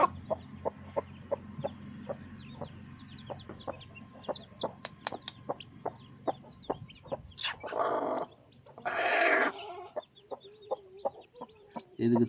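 Chickens and small chicks on a village farm in Tamil Nadu: steady, soft peeping of chicks in a quick rhythm, with louder clucks and a couple of bursts of rustling or flapping close by.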